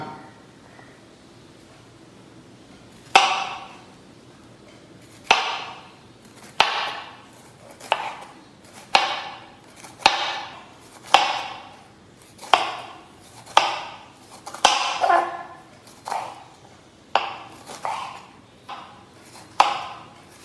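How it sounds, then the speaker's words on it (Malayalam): A knife slices bitter gourd into rounds on a cutting board, giving a steady series of about fifteen crisp, close chops spaced roughly a second apart after a quiet opening. "ഈ പാവക്ക നമുക്ക് വട്ടമായിട്ട് അരിഞ്ഞെടുക്കാം"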